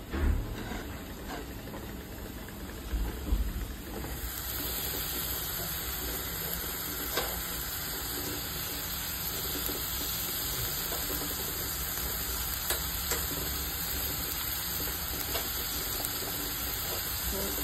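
Chopped tomatoes fry in a pan for a Sukat Bhakri dried fish dish: a steady, soft sizzle and hiss goes on throughout, with a few clinks and bumps near the start.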